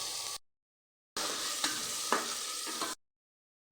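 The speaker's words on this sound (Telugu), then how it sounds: "అల్లం వెల్లుల్లి పేస్ట్ పచ్చివాసన వేసి ఫ్రై చేసుకోవాలి" Close sizzling and stirring of ginger-garlic paste with tomato and green chili puree frying in a pan for egg biryani, in two bursts separated by brief silences, with faint utensil scrapes.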